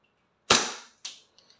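A WE Hi-Capa 5.1 Type R gas airsoft pistol fires two sharp, close pops about half a second apart, followed by a couple of faint mechanical clicks from the slide, in an otherwise quiet room.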